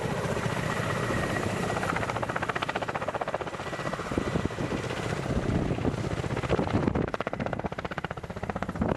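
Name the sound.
Ka-52 Alligator attack helicopter flying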